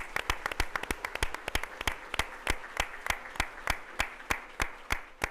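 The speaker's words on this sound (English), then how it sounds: "Let's give a big round of applause here tonight." An audience at an evening school fundraiser gala gives a steady round of clapping, close and moderately loud, with sharp individual claps standing out in an even rhythm and no talk over it.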